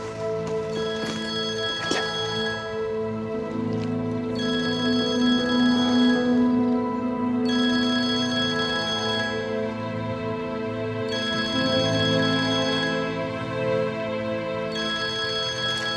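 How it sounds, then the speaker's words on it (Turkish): A mobile phone rings with a repeating electronic ringtone, bursts of bright tones recurring every few seconds at a steady level throughout, with no talking. "Büyük Bey'in telefon çalıyor."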